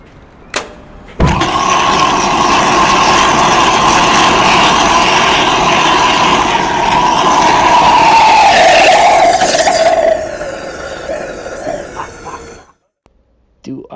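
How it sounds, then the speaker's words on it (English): A small rocket motor and jet fire at the University of Nottingham, bursting on abruptly into a loud, sustained roaring hiss that holds for about nine seconds, then sputters and tails away into near silence. "essentially there's a rocket motor and a jet"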